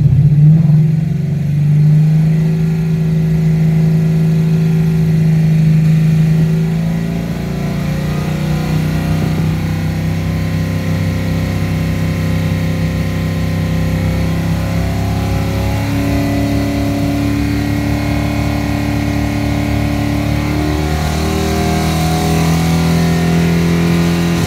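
A car engine being tuned holds steady idle-like hum, then climbs in distinct stepped increases of revs, each held briefly; a loud, close, continuous drone with no talking.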